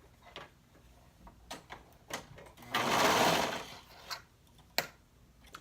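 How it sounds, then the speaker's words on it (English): A sewing machine stitches through three layers of fabric along a sleeve bodice seam in one short, fairly quiet burst, framed by soft clicks and handling taps before and after. "And then we'll stitch all 3 of those layers using a 1 inch seam allowance."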